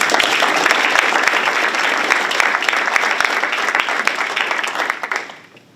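Crowd at a school board of education meeting applauds honored students, a loud, dense wash of many clapping hands that holds steady for about five seconds, then quickly fades out.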